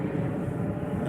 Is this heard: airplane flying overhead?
yes